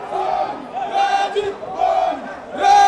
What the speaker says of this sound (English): the duo was greeted with a joyful cheer from family, friends, fans, and the media